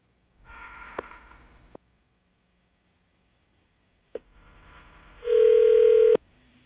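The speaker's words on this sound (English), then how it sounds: "let's make your phone call then" A phone call is being placed: a soft muffled rustle and sharp clicks come first, then after a pause a quieter hiss gives way to a loud, steady telephone tone that cuts off abruptly.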